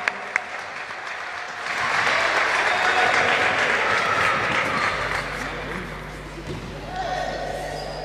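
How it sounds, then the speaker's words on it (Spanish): Crowd applause in a gym at a youth basketball final, welcoming a guest former Uruguayan national team player; sustained clapping swells and holds, with an announcer's voice and low hall hum underneath. "Fuerte el aplauso para Tilio."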